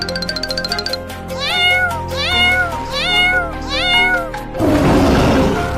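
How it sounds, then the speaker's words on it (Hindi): Kittens cry and a cat meows in a series of loud, rising-and-falling mews with a clear ringing tone, about one every second, before a rough, noisy burst closes the sequence. "ये भेड़िया तो बिल्ली को खा रहा है और बिल्ली के बच्चे रो रहे हैं"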